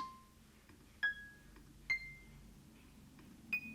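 Sparse synth notes drawn in and pitched up, lo-fi style: three or four bright tones ring out one at a time with gaps between them, each with a sharp onset and a short tail, over a faint low hum.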